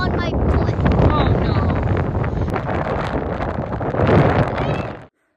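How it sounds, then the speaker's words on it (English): Strong outdoor wind buffets the microphone in loud, continuous roaring gusts at a site being worked with a mini excavator, then cuts off abruptly at the end. "Woo, that wind."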